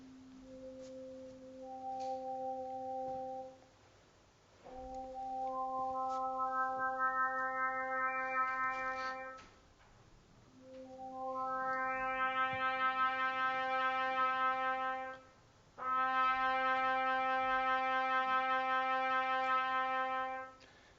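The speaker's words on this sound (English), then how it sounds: "a very complex sound like this trumpet sound" A trumpet-like tone is rebuilt from sinusoidal partials stacked one at a time, so a pure sine steadily brightens into a brassy note. The build happens in several sustained passes separated by short pauses, with no voices.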